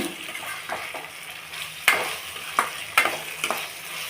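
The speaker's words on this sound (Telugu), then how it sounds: "కూరలు కొంచెం పచ్చివాసన పోయేదాకా కొంచెం ఇలా తిప్పితే" Crab curry being stirred in a hot pan with a soft, continuous sizzle and several sharp spoon-on-pan scrapes and clinks at irregular intervals, close by and with no talking.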